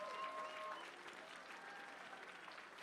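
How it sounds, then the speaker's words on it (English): Crowd applause at a heavyweight boxing event in Andover, Massachusetts, a steady dense wash of clapping from a distant audience with faint voices mixed in. "how about a round of applause for these two heavyweights"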